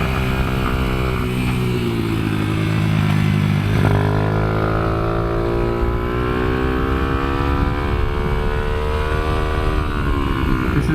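Highly modified Kayo MR125 dirt bike ridden around the Katy Kart Track, its engine droning loud and steady, pitch rising and falling as the throttle opens and eases through the laps.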